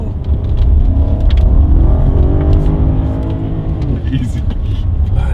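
An all-wheel drive BMW Alpina B7 on winter tires is driven hard along a damp road in cold weather, its engine a loud, close, continuous drone whose pitch sweeps up and down as it accelerates and eases off.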